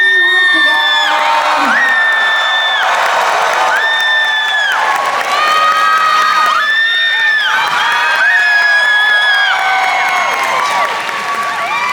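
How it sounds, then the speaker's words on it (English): Crowd at the Anthrocon 2023 fursuit dance competition cheers and whoops loudly and continuously over strong, sustained music, with shouts rising and falling throughout. "crowd, make some noise for Norway"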